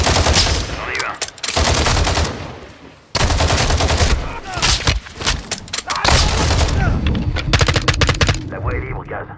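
Dense automatic gunfire and bursts from a shootout in Call of Duty: Modern Warfare II, loud and nearly continuous with a brief lull, voices speaking French over the shooting.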